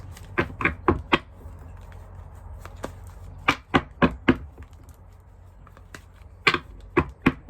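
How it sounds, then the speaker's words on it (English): Tarot cards being shuffled by hand, clusters of quick crisp slaps and riffles in uneven bursts with short pauses between them, close and moderately quiet, with no talking. "Last shuffle, guys."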